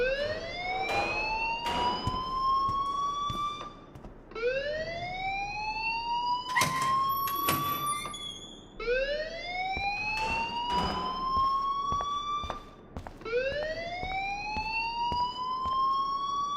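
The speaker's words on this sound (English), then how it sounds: "please turn off that alarm since that's your job" A loud alarm siren in the video game Life is Strange wails in repeated rising sweeps, each cycle climbing in pitch, mixed with sharp electronic ringing bursts, continuous and close.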